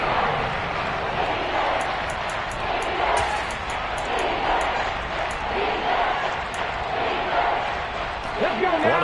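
Video game crowd at a football stadium cheering before a big third down, a steady loud roar of many voices throughout, with a commentator talking over it.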